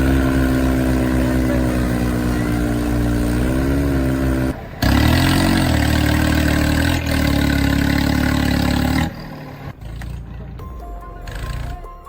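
A tractor engine runs loud and steady in rural India, with a low mechanical drone that cuts out briefly and then resumes before fading into lighter, scattered noise toward the end.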